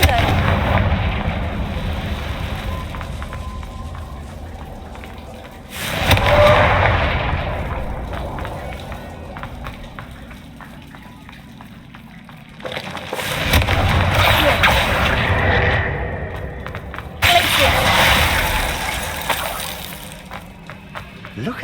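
Confringo spell explosions in the Hogwarts Legacy video game, three heavy booming blasts spaced several seconds apart, each followed by a long rumbling decay.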